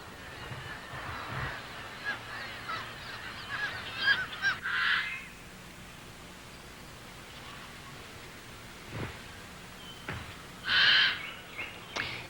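Kittiwakes call at a breeding cliff colony. A few loud, nasal calls stand out from a faint, steady backdrop of distant colony noise and surf, with quieter calls scattered between them.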